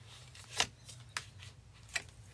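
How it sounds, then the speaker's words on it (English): Tarot cards are given a quick shuffle, making three short, crisp riffling bursts spaced apart, close and fairly quiet over a low background hum. "Quick shuffle"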